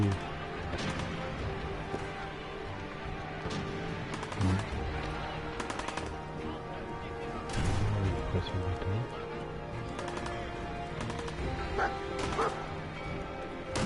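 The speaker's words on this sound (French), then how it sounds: "Oh, mais doucement le chien, je connais pas." A dog barks in repeated sharp bursts over a noisy, rumbling background, with a person talking at moments.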